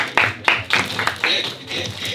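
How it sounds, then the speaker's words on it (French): A small audience claps at the Salon des Produits Juifs 2021 trade fair, a short burst of a few distinct, uneven hand claps heard close by with some voices mixed in. "On peut applaudir Benko aussi"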